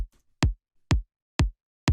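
Tech house top-layer kick drum with a snappy, bright high end, struck four times at a steady tempo, each hit punchy and clean with a short decay, playing alone.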